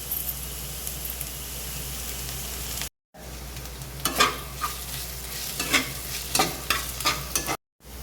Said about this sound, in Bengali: আদা রসুন দিয়েও 2-3 মিনিট ভাজা পরে সুন্দর তেল বেরোচ্ছে।